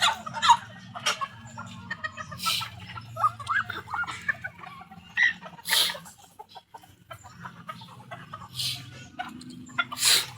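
Chickens and roosters cluck and squawk on a farm at harvest time, with intermittent close calls in short bursts over a low background hum, some loud and sharp, others softer clucks.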